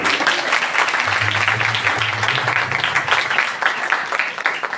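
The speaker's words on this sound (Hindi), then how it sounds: "आइए खुदावंद के कलाम के लिए और खुदावंद के खादिम के लिए जोरदार तालियां" Loud applause for the preacher at a church service, a sustained, dense roar of many hands clapping at once that stays strong throughout.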